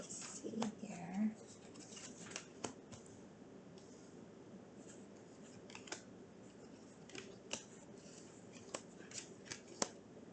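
Tarot cards are shuffled with several flying out of the deck, heard as soft papery riffles and a string of crisp flicks and taps against a quiet room, with a brief voice near the start.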